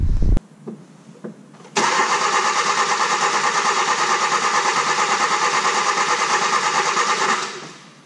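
Hyundai i20 engine being cranked by the starter, a loud, fast, even churning rhythm that runs steadily for about six seconds after a few faint clicks, then fades out.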